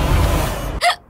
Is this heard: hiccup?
yes